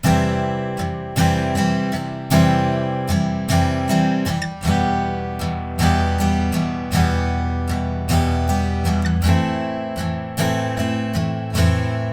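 A guitar strummed in steady rhythmic chords, cycling through a chord progression with regular downstrokes, full and upfront with no voices.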